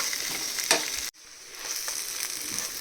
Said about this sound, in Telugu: మనం వేయించుకుని జీడిపప్పులు కూడా వేసుకొని ఫ్రై చేసేసుకుందాము